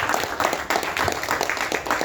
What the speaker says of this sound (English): Can you please give a round of applause?